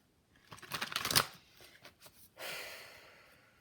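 Animal oracle cards being shuffled close by, a quick run of papery riffles and flutters building to a sharp snap, then a softer rustling slide as the deck settles, with no talking.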